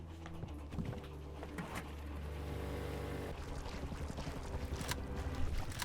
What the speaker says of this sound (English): I need to take a boat back to base